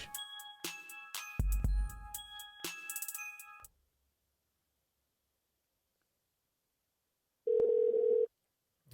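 Telephone tones: several overlapping steady beeps and a dialing-like burst with a low thump over the first few seconds, then silence, then one loud sustained single-pitch tone near the end.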